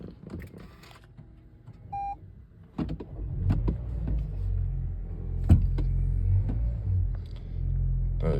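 A Toyota C-HR engine starts and settles into a steady low idle rumble, heard from inside the car after a short electronic beep and some handling noises, with no talking.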